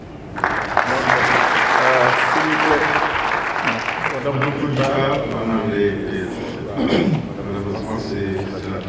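Loud, sustained applause from a crowd at a medical thesis defense ceremony, clapping steadily then tapering slightly, with a few voices heard over it.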